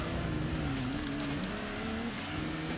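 Race cars in the PlayStation racing game Gran Turismo 2, including a Subaru, Nissan Silvias and a Mitsubishi FTO, give a steady, loud engine drone with shifting pitch as they race close together, with no talking.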